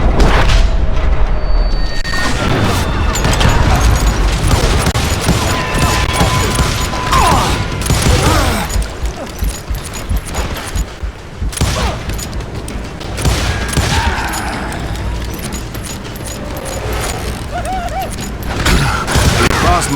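Gunfire in the Western shooter Call of Juarez: Gunslinger: dense, continuous volleys of shots and booms with mechanical clatter, loud and sustained throughout, with some game voice or music mixed underneath.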